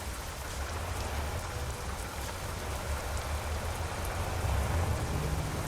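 Steady rain falls in a truck driving video game, a dense, even patter with a low rumble beneath it, continuous and fairly loud with no voices.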